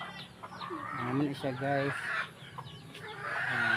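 Chickens cluck and squawk close by under a man's speech, with a rooster-like call mixed in.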